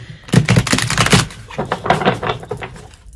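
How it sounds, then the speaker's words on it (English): A stiff, new tarot deck inspired by Alphonse Mucha's art is riffle-shuffled in two close, crisp bursts of rapid card flutters and slaps, with no talking. "We're just going to shuffle a couple more times and we'll dive in."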